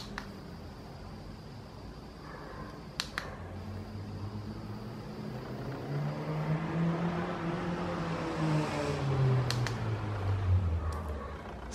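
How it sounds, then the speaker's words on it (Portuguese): A car passes by, faint at first, then swelling to a broad whoosh and rumble before easing off, with a few light clicks early on. "Esperar o carro passar."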